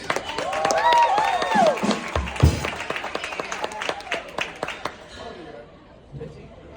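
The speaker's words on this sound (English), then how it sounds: "A round of applause for Noah" Audience applause with cheering voices welcoming a special guest, a 15-year-old named Noah, during a trio's performance on a cruise ship; dense clapping and shouts swell for several seconds, then fade out.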